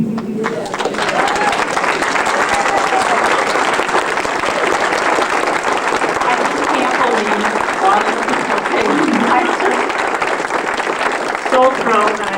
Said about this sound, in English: give you a